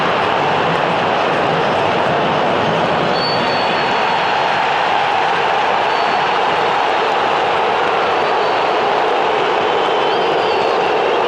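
Stadium crowd booing Flamengo players as they leave the field after a Libertadores match against Táchira, a dense, steady roar of many voices spread evenly across the whole stretch, loud and distant-sounding with no pauses.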